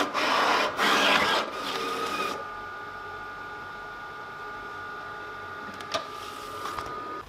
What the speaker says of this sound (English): Now we're going to go ahead and send over the cut for our silver glitter.